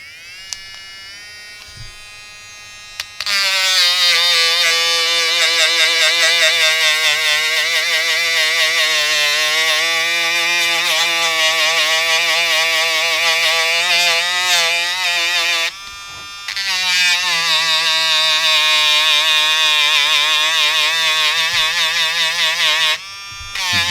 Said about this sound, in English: We're gonna try on this rusted metal using the grinding sandpaper.